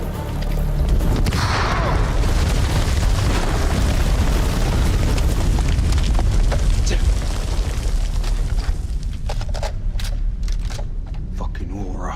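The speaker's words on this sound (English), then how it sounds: "Grenade!" A grenade goes off in the horror game House of Ashes, a loud, heavy boom that rolls on into rumbling debris and chaos, with voices shouting over the blast.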